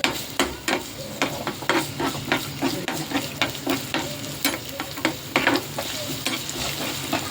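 Finely chopped garlic fries in about two spoons of oil in a small pan for a Chinese garlic potato dish: a steady close sizzle broken by frequent sharp spoon stirs and taps against the pan, with no voices.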